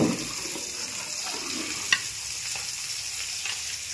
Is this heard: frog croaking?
no